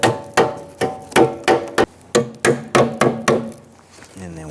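Foam-tab clips are tapped onto a Ford Explorer radiator with a series of about ten sharp, evenly spaced knocks close by, followed by a short moment of voice at the end.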